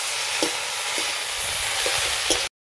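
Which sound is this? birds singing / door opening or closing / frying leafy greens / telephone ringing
frying leafy greens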